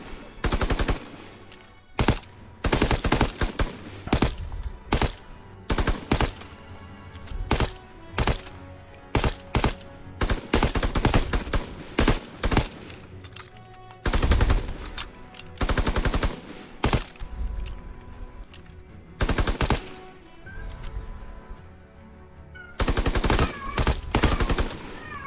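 Video game gunfire in Call of Duty WWII, with repeated bursts of loud rapid shots separated by short quiet gaps, some bursts long and some brief, heard close with no talk over them.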